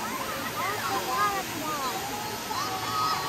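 Steady broadband rush of Waimea Valley Falls on Oahu's North Shore, Hawaii, fills the scene, with overlapping voices and chatter running on top throughout.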